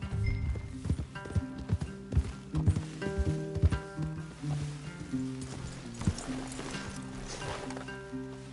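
Steady hoof clip-clops of horses moving at a walk in the video game Red Dead Redemption 2, mixed with a sustained musical score and low rumbling ambience.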